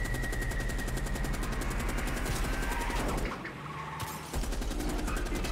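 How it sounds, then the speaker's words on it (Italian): Rapid automatic gunfire in Call of Duty: Cold War, a dense, loud, continuous stream of shots with a brief lull near the end before the burst resumes. "Colpi infiniti, ragazzi"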